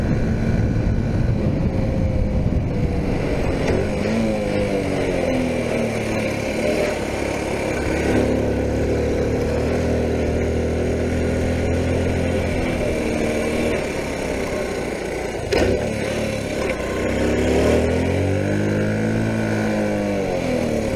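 A 1980 Honda C70 Super Cub ridden on the road with a snow tyre on the rear, its small engine droning steadily up close with rising and falling pitch as it changes speed, with constant wind noise and no speech.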